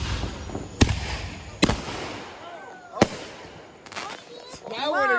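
July 4th fireworks go off and one explodes on the floor. Several sharp, loud bangs come at irregular intervals over about three seconds, followed by whistling, crackling bursts, with voices talking nearby.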